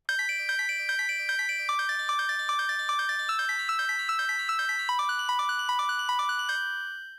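Arpeggiated synth pluck melody for a beat, a steady run of bright, high, quick plucked notes that climbs and shifts through chord tones before fading out at the end, with no voices.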